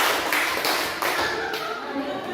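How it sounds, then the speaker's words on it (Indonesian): Classroom group clapping hands in a counted rhythmic pattern, a few sharp claps in short bursts, with faint voices in the background. "tepuk tangan 3 kali 2 kali"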